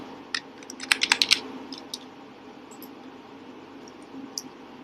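A password is typed on a computer keyboard: a quick burst of close, crisp key clicks, then a few scattered taps over a faint background hum.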